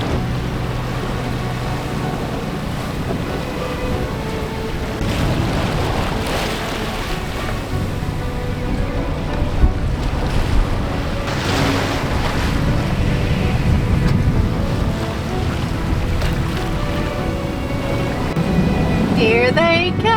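Wind roaring and gusting over open sea during a squally front on a sailboat, with water rushing and slapping and constant buffeting on the microphone; loud, continuous wash with no distinct rain patter.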